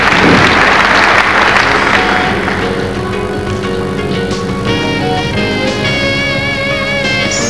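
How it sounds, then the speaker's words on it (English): An arena crowd applauds a men's gymnastics floor routine at the 1998 Australia Cup final, with loud, dense clapping at the start that slowly eases under a steady hall ambience. "Crowd appreciates the difficulty of that."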